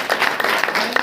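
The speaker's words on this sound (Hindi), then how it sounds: "ताली बजा करके पढ़ना" Congregation clapping hands at a Saturday church prayer meeting, a short burst of scattered, uneven claps at moderate volume.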